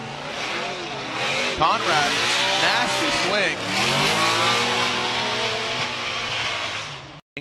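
A Dodge Viper V10 and a Chevrolet Camaro race side by side at a Formula Drift round in Miami, loud engines revving and sweeping through gear changes with tire noise, under a commentator's excited voice.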